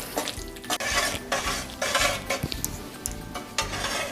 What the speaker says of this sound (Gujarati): આ રીતે સતત તેને ચલાવતા રહીશું અને લોટને આપણે ઘી છૂટું પડે ત્યાં સુધી શેકી